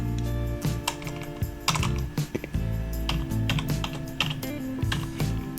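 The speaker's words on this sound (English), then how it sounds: "Y'all see me typing with one finger now." Keyboard typed with a single finger, producing irregular clicking keystrokes in uneven bursts and pauses, close and clear with a faint background hum.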